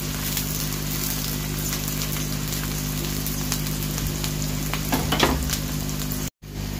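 Onions fry with chicken in a pan for a home-style chicken and okra curry, giving a dense, continuous sizzle up close with faint stirring scrapes and a brief cut near the end.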